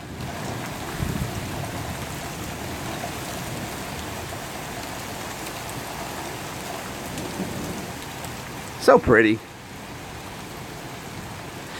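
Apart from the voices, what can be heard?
rain during a thunderstorm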